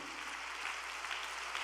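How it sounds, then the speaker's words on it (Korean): An audience claps at a religious gathering, with steady, dense applause that holds at an even level throughout the short stretch. "그리고 참 어머님을 위해 박수를 보내주십시오."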